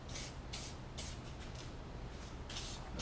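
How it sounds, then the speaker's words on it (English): Detail spray is squirted onto a car's front grille in about five quick, quiet hissing bursts, each under half a second, with short pauses between. "Now I'll go back and spray this down with some detail spray here"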